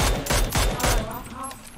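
Rapid gunfire in the PUBG video game, a quick burst of four or five loud shots in succession, followed by a fading tail.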